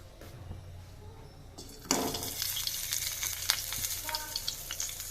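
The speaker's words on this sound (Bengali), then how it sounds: "এইভাবে আপনারা ভেজে নিতে পারেন" A breakfast snack frying in hot oil, a quiet steady sizzle that jumps louder after the first two seconds and keeps crackling with bursts of popping, with no talk over it.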